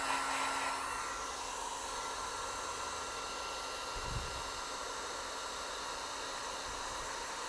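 A heat gun set on high blows a continuous steady whoosh of hot air onto the adhesive behind a car emblem on a 2026 Tesla Model Y Juniper, close and unbroken throughout.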